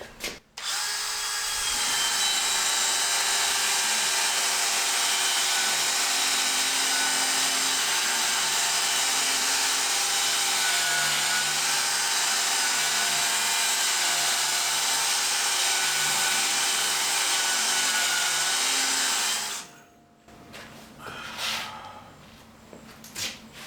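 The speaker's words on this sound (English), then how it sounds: "So I'm gonna use this 60 grit on here, just on the edge." A power sander with 60 grit abrasive works the edge of a prism made of quartz and mild steel, giving a loud, steady whine for about twenty seconds before it cuts off, followed by a few faint handling sounds.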